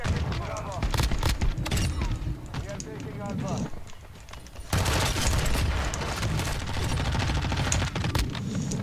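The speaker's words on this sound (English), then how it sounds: "Oh, somebody is using like an RPG." Warzone 2 combat with an RPG blast and bursts of automatic gunfire, loud cracks and booms stacking up, a brief lull midway before the firing surges again, with voices talking over parts of it.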